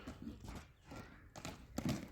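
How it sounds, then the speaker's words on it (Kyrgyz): A four-year-old horse walking, hooves clip-clopping in a few soft, uneven steps, faint and close, with no talk over it. "Аттын жүрүшүн көргүлө."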